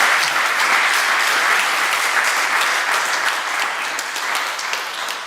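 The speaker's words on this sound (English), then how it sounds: "Give some round of applause to the panel at this point." Steady audience applause for a Swiss blockchain community panel fills the hall, dense and sustained from start to finish with no talk over it.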